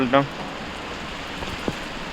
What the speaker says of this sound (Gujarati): અત્યારે વરસાદ આવી ગયો છે